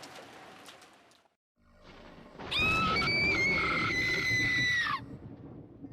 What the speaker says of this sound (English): Ooh, what a scream.